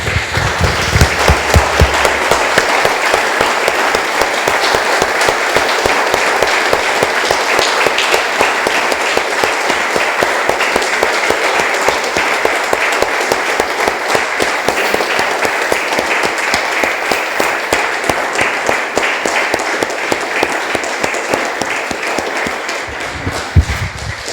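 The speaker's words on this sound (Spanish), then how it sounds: "Damos un aplauso, hermanos, al Señor" Sustained, dense applause from a church congregation at a Spanish-language service, loud and close, a continuous wash of many hands clapping for over twenty seconds before tapering at the very end.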